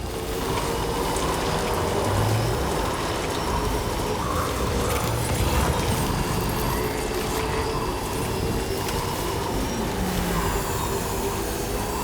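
Steady rain falls in Death Stranding 2, a constant, even hiss of drops on the ground that holds at one level throughout with no breaks and no voices.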